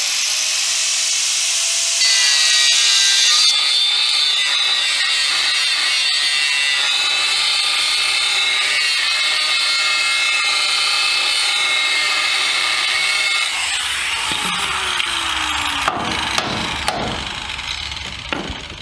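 A high-pitched power tool whines continuously for a long stretch, grinding loudly up close as it cuts a Chevrolet S-10 metal frame, then winds down into scraping and clanks.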